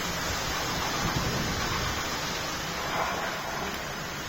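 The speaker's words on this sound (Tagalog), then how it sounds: "Lakas ng ulan." Steady, dense hiss of heavy August rain pouring down, unbroken and fairly loud, with no voices.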